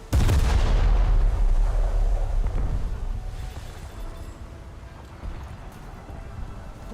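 Heavy 5.5-inch naval guns on the Mogador destroyer fire in a video game, opening with a loud, deep blast that rolls into a long rumbling decay, followed later by a fainter thump.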